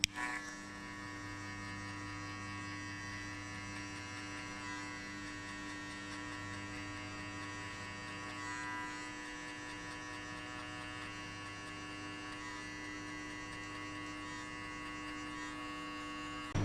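Electric hair clippers hum steadily through a skin fade, a constant even buzz with a strong tonal drone that holds for the whole stretch, close and unbroken, with no talking.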